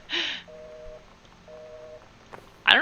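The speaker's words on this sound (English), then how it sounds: "the dial tone adding to the creepiness" Telephone tone in the game Gone Home: two brief, moderate-level paired beeps in a repeating on-off cadence, bracketed by louder bursts of noise at the start and end.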